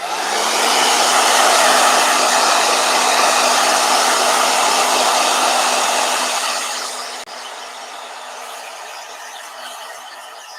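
A blow dryer runs loud and close as a steady airy roar with a faint hum, then drops to a quieter, softer setting partway through and keeps going.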